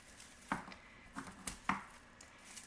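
Dried herb branches snipped with scissors before grinding: a few crisp, close snips spaced irregularly, with quiet pauses between them.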